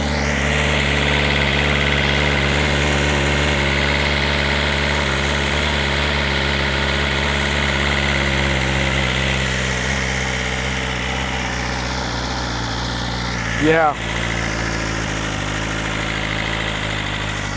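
A stock 2025 BMW S 1000 RR motorcycle idles high and steady at close range, a constant engine drone with a brief throttle blip near the end before it settles back.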